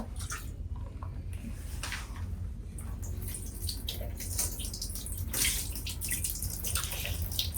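Water poured from a mug over a puppy, a steady splashing and trickling stream running for several seconds, close and fairly loud, with no talking over it.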